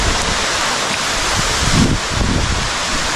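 Steady, dense roar of cascading water from a waterfall, heard from inside the falling water as a diver descends. The broadband rushing noise stays loud and unbroken throughout.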